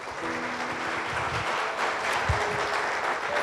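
Church congregation applauding, a steady dense wash of clapping filling the whole stretch at moderate loudness, with a faint voice or two underneath.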